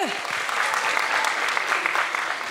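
Audience applause at a Christmas stage show, a steady wash of many hands clapping throughout, fairly close and even in level.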